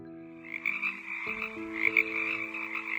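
A frog croaks repeatedly in a steady, buzzing series, moderately loud and close, over a constant low droning tone.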